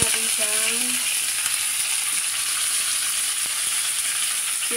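Fish frying in hot oil until golden brown, with a steady, dense sizzle that holds from start to finish, close and loud, and a few faint tones near the start.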